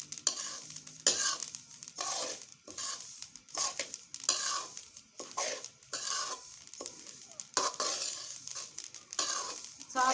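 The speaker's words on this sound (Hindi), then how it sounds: "तो गाइस इसकी भूनने की आवाज़ तो आ रही होगी आपको भी।" Flaxseed roasting in a pan, with steady stirring scrapes and a dry, crackling sizzle that rise and fall in rhythmic strokes, close and alone.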